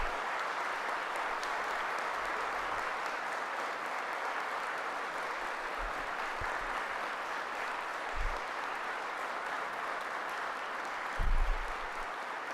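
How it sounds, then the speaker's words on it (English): Applause for city employees fills a city council chamber in Providence during a mayor's budget address, a steady, moderately soft wash of clapping that holds for about twelve seconds with a couple of louder bumps near the end. "Can we give a round of applause to the hardworking city employees who raise the bar every"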